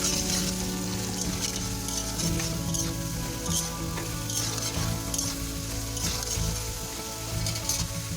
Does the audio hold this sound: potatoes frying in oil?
yes